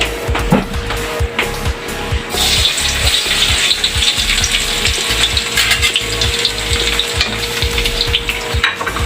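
Garlic sizzles and sautés in a hot pan, a loud steady frying hiss with stirring scrapes running throughout and no talking.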